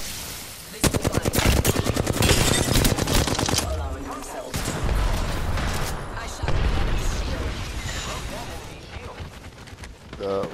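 Rapid automatic gunfire in a video game firefight, loud and close, with a dense rattling burst early on, then continued shots and blasts, while a voice talks over the action.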